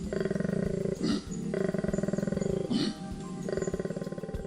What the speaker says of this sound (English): This is what a koala in mating season might sound like.